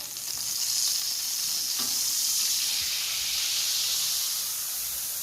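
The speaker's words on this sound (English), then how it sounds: "Sizzling and crackling." Steady close sizzling and crackling of a hot smoked turkey, a continuous hissing fry with faint pops, no talking.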